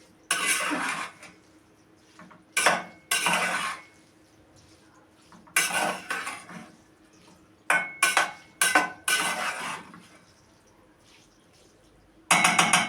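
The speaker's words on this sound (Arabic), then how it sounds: "ونقلبهم عشان المكرونة ما تمسكش في بعضها" Pasta being stirred in a pot for Egyptian koshari, with a utensil scraping and clanking against the metal in short, separate bursts between quiet pauses, close and fairly loud.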